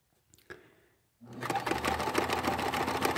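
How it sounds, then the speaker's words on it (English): An older all-metal mechanical sewing machine with a slight squeak starts up after a couple of soft clicks and runs at a fast, steady, close rattling stitch. "This machine has a little squeak in it, I hear. Might need some more oil."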